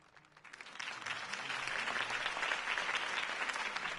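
Crowd applause after Harvey Dent's campaign speech in a video game, a faint spatter that swells within the first second into steady, dense clapping.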